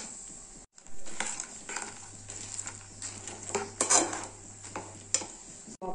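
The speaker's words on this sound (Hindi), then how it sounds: "मूंगफली को गुड़ के साथ मिक्स कर लिए हैं" Roasted peanuts get stirred into bubbling jaggery syrup in a pan, with soft scraping and clinking of the spoon against the metal and a faint sizzle under it, fairly quiet and close.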